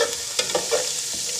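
Garlic ginger paste frying in oil for bong nehari, a steady close sizzle with intermittent scraping stirs.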